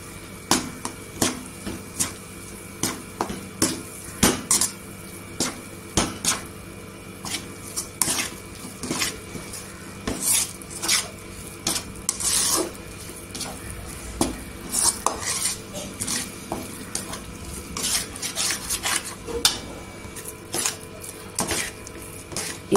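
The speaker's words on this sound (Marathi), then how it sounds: "मसाला तेलावर परतून घ्यायचं." A spoon scrapes and clinks steadily against a pan as dry spice masala of Kashmiri red chilli powder, Agri masala and coriander powder fries in oil for a mixed vegetable bhaji, with repeated close metallic strokes and a faint sizzle beneath.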